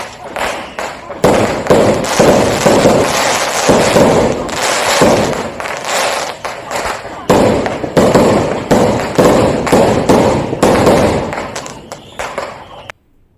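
Fireworks burst in a dense, continuous barrage of loud cracks and booms, with faint crowd voices beneath the explosions.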